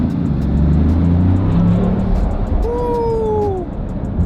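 Brand-new cold tires on a 2006 Bugatti Veyron squeal in a rising-then-falling drawn-out screech near the end, over a loud continuous engine and road rumble.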